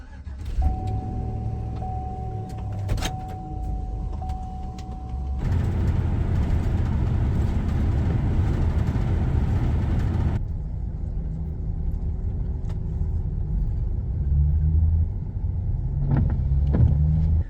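A camper van rolls along the road, its steady engine rumble and road noise holding throughout, with a denser stretch of louder driving noise in the middle and no voices.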